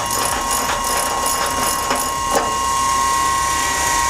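Turret unlock mechanism inside a Sherman tank engaging with a steady mechanical ratcheting clatter, loud and close, over a constant whine and hum from the vehicle's interior.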